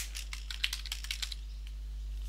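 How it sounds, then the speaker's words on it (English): Typing names on a computer keyboard to share a Google Docs document, a quick run of close, light key clicks over a steady low hum, then the tapping stops. "you just simply type in the names"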